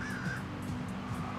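Crows cawing in the video game Albert & Otto, a short harsh call or two rising briefly over a steady, fairly loud bed of game ambience and music.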